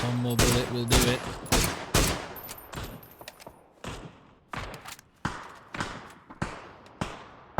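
Gunfire in the battle-royale shooter PUBG during a competitive match: a series of sharp, loud shots, several fired in quick bursts at first, then spaced single reports that carry on steadily to the end.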